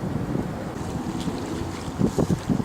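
Steady wind buffeting the microphone on a moving Mississippi River cruise boat in Minneapolis in October, a low rumbling roar with brief stronger gusts toward the end, no voices.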